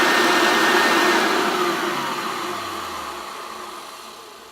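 A Hoover Turbopower Junior U1100 upright vacuum cleaner's loud, steady whir winds down after being switched off, its motor pitch sliding lower as the noise gradually fades.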